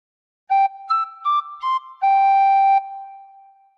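A tin whistle plays a short, gently blown phrase of Jingle Bells, alone and close: a few clear, pure notes in quick succession ending on a long held tone.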